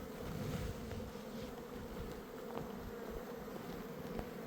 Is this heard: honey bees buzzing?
yes